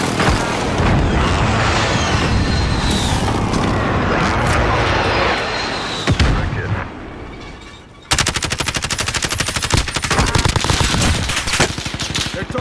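Airstrike explosions in Call of Duty on Rebirth Island, a loud, continuous roar of blasts and rapid gunfire that dips briefly, then resumes as a dense rattling barrage.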